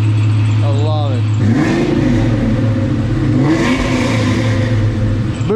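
A 1000+ hp twin-turbo 2019 Mustang GT engine revs up and down in rising and falling sweeps, close and loud, while people talk over it throughout.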